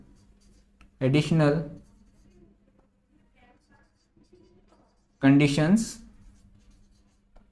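Chalk or marker writing on a board during a Hindi-language engineering mechanics lecture on beams, faint and scratchy in the pause between two short bursts of someone speaking.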